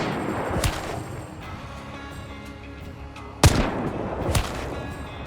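Nitro rifle firing explosive rounds in the video game Hunt: Showdown, two sharp booming shots with trailing echoes, one early and a louder one later, over low ambient rumble and no speech.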